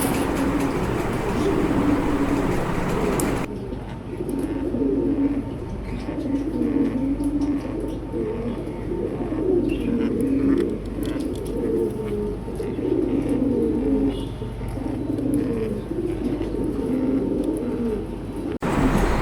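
Danish pigeons, including a large running male, cooing in repeated low, throaty phrases close by, continuing steadily over a loft's background noise without any speech.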